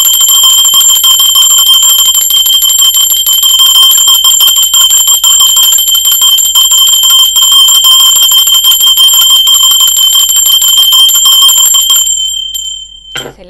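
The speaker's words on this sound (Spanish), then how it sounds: "Vamos a la campana." A bright metal bell rings with a long, sustained shimmering tone that holds steadily for about twelve seconds before being cut off, close and loud with no talking.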